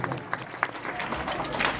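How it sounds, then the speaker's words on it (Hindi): An audience breaks into steady, dense clapping at a Hindi poetry and retirement gathering for a school physical education teacher. The applause is moderately loud and close, with a few sharper claps and a faint voice underneath. "एक बार दोनों वास्ते जोरदार तालियां हो जाए।"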